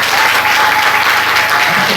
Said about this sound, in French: Est-ce qu'on peut donner des acclamations?